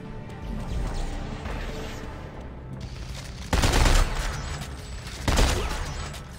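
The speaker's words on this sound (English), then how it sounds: "Nobody hears my gunfire, apparently." Weapons fire in Dead Space 3 co-op on PC comes in bursts, with a steady low rattle followed by two loud, heavy volleys near the end.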